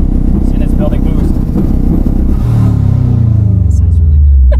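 A 1996 Subaru Impreza STi with a carbon fiber widebody holds a loud, buzzing rev on launch control at wide open throttle, then the engine note drops and rumbles deeper as boost builds, recorded up close.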